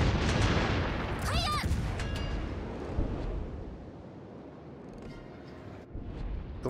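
Naval gunfire in World of Warships, with a heavy booming blast at the start that slowly rolls off into a long rumbling tail, while someone talks in German over it.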